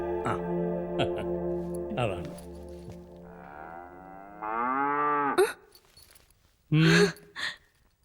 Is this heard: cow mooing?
yes